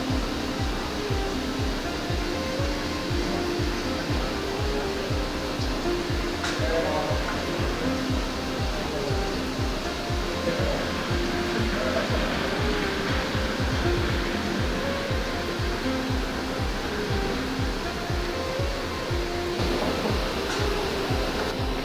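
A CNC machine cuts a dimple with coolant flowing, giving a continuous, even hiss and whoosh of spray over a steady machining hum, close and unbroken throughout with no talking.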